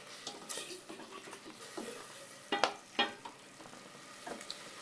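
Spices and shallots sautéing in a pan for chicken soto with milk broth: low sizzling under scattered clinks and two sharp scrapes of a utensil against the pan, close by, with no voices.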